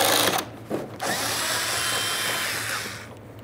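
Power drill spinning out a 10mm bolt from the bumper cover of a 2012-2018 Nissan Altima, a loud close whirring burst with brief pauses near the start, then a steady run that fades at the end.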